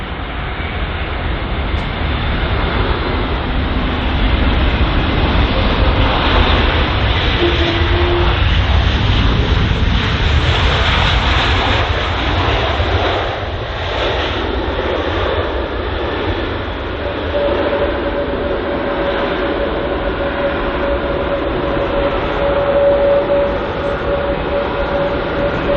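A passenger jet, registration T7-ME5, arriving at London Heathrow after a five-hour flight from Beirut, roars steadily and loudly for the whole stretch, a broad sustained engine rumble with a faint whine rising partway through.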